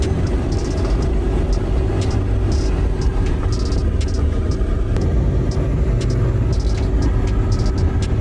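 A car loaded to the brim with 100 humanitarian aid kits drives through Donetsk region, its engine and road noise a steady, continuous drone heard from inside the vehicle, with no talking.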